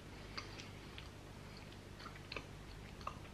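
Close, wet chewing of a soft, chewy gummy vitamin, with small irregular smacks and clicks scattered over a low steady background hum.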